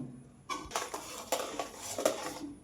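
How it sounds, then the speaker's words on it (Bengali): Sour yogurt going into a bowl for homemade sweet curd, heard as a short series of clinks and scrapes of utensils against dishes, close and fairly quiet, with no talking. "এখন এই টক দইটা আমি ঢেলে নিব।"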